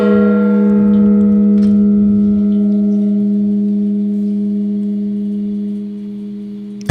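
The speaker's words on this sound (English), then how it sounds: "I'm going to strike the gong specifically for your birthday" A gong struck once rings out in a long, steady sustained tone with layered overtones that slowly decays over about seven seconds, ending with a sharp knock.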